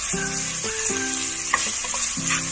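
Tomatoes sautéing in a pan, a steady close sizzle of frying with stirring clatter over it, no voices.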